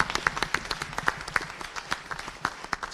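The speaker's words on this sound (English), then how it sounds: "A round of applause for Susie." Sparse, distinct hand claps from a small audience at a school board meeting honoring a retiring teacher, individual claps clearly separated and fairly close.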